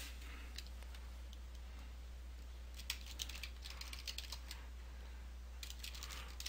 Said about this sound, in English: Enter the name of the folder in the text box and press the Enter key on your keyboard